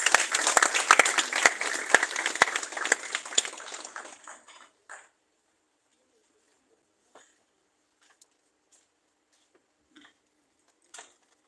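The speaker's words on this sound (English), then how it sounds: "Please welcome her with a round of applause" An audience at a Ghanaian health initiative event applauds to welcome a speaker, a dense burst of clapping that fades out after about four seconds, followed by near silence with a few faint ticks.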